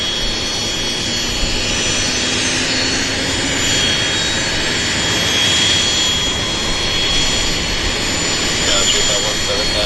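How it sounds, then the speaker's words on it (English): A jet airliner's turbine spins up at Vancouver airport, a loud continuous roar and whine with a rising tonal line that fills the whole clip. "We'll wait for that turbine to spin."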